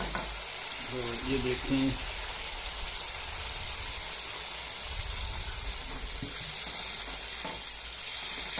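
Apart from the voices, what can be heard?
kofta gravy masala sizzling and frying in a pan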